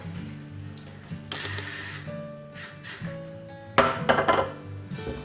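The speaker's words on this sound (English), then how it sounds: "Oh, almost forgot the spray." Hairspray hisses onto curled hair in several close, short bursts, with small clicks and handling noises between sprays.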